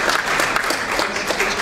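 An audience at a student-government debate applauds, with steady, dense clapping close by that holds evenly for under two seconds and has no voices over it.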